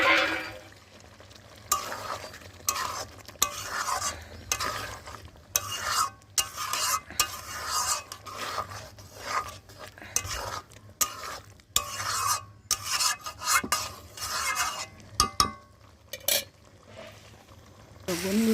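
Boiled potatoes stirred into fried spice masala in a pan: repeated scraping and clattering strokes with intermittent sizzle, uneven and close by, with brief gaps between stirs.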